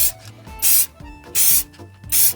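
Spray paint goes onto a cracked dashboard in a Nissan Murano as a light second coat, three short bursts of close hissing spray separated by brief pauses and faint handling noises.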